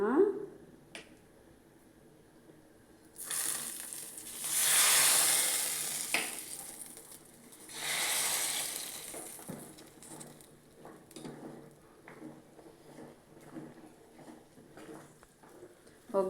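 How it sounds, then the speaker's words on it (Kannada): Mustard seeds and spices tempering in hot oil for South Indian rasam (saaru) hiss and crackle in two loud sizzling bursts, with faint stirring and kitchen clatter between them. "ಒಗ್ಗರಣೆನ ಹಾಕೋಣ."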